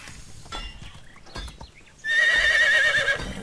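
A horse in the medieval game Medieval Dynasty lets out a single clear whinny near the end, preceded by soft hoof clip-clops and a little quiet movement.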